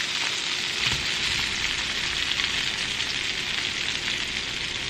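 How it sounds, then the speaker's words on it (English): Shrimp sizzle in hot butter in a pan over medium-high heat, a steady loud crackling hiss up close with a faint stir or clink near the start. "I'm just going to toss my shrimp right in"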